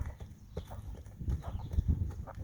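A young, green horse under saddle pushes into a canter, its hooves thudding in a low, rhythmic beat on soft ground. The steps are moderately close and there are no voices.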